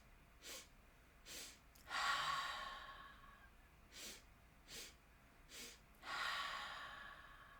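A breathing exercise for mindfulness, repeated twice: three quick sniffs through the nose, then a long, breathy exhale through an open mouth. The sounds are close and soft, with no talk.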